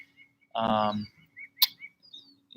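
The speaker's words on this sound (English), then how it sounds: "we do have a few birds that are making some noises" Birds chirping outdoors beside a campfire: a loud burst of close chirping, then scattered shorter tweets and a sharp high call over a faint low hum.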